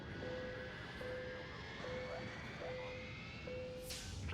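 An airplane taking off as an advert sound effect: a steady engine drone with a whining tone that holds throughout, cut by a string of short repeating beeps at an even pace.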